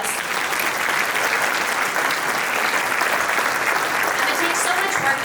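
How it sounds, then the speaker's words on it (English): Audience applause at a chamber of commerce gathering, thick continuous clapping from a large crowd at steady loudness, with faint voices mixed in beneath. "Can you all give them a round of applause?"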